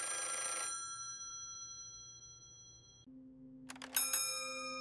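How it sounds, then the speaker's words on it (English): Beige plastic wall telephone in a 1990s kitchen, its shrill mechanical bell ringing loud and close in two bursts separated by a quiet ringing decay and a pause. "It is a shrill, physical bell inside the beige plastic wall unit."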